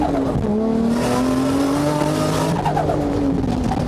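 Korean-made tires squeal and skid on a car, a loud, sustained rubbery screech with shifting pitch over a continuous engine roar, close up and with no voices.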